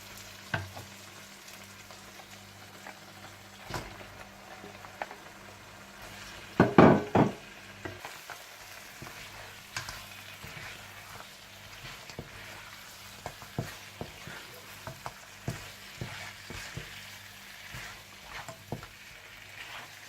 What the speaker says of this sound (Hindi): दही मिलाने के बाद आप इसमें मटन चाप्स डालकर अच्छी तरह से भून लें